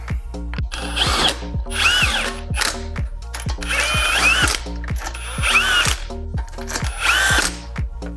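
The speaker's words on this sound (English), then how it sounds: "let's blast this rear wheel off and get this rear spacer on" A Mk7 Golf GTI's rear wheel bolts are removed with an impact wrench, sounding as repeated loud bursts of rapid hammering rattle with whirring spin-ups, several close-up runs separated by brief pauses.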